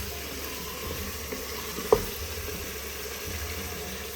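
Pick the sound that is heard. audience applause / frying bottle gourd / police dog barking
frying bottle gourd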